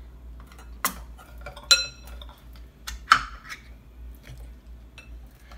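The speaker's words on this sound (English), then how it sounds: "I'm gonna go ahead and use our cream of coconut. Let me get that open." Cream of coconut can being opened, a few sharp metallic clinks and taps spaced out over several seconds, fairly close, over a low steady background hum with no talking.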